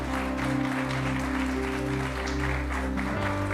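A church congregation bursts into applause, a dense, steady wash of clapping that carries on without pause, with sustained musical tones ringing underneath throughout.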